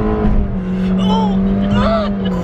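A car in manual speed mode revs its engine, a loud rising and falling motor drone while people talk over it.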